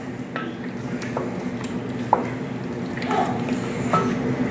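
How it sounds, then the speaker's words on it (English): About two 15-ounce jars of tomato sauce are stirred into a pot of shrimp creole, with soft wet squishes and scraping strokes over a low bubbling simmer. "I'm gonna stir that in, okay?"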